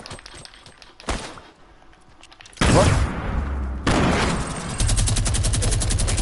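Gunfire in a shooter video game: a sharp isolated shot, then loud bursts of rapid automatic fire that continue to the end, close and harsh, with no talking.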